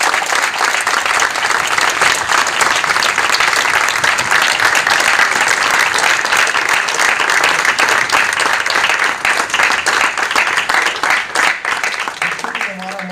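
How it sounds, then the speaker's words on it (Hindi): Loud, dense applause from a large crowd, many hands clapping in a continuous roar that holds steady for several seconds before thinning slightly near the end, with a voice briefly surfacing at the close. "मैं चाहूँगा जोरदार तालियों से इनका स्वागत करें"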